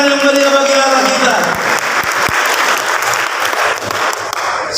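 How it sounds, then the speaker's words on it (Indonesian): A church congregation applauds at a Christmas service in Waena, steady loud clapping filling the room throughout, with a speaker's voice and some music overlapping at the start. "Kita beri tepuk tangan yang meriah bagi Allah kita."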